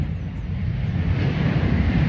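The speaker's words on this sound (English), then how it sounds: "yet another plane takes off" An airplane taking off heard from a golf course, a steady broad roar of engine and wind noise sustained throughout, fairly loud and distant-sounding, no talking.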